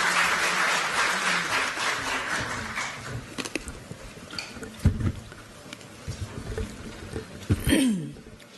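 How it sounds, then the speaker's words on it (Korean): Audience applause welcomes Democratic Party leader Choo Mi-ae at a candlelight-revolution forum: a dense, loud burst of clapping that gradually thins and fades, with scattered noise and faint voices afterward. "큰 박수 주십시오"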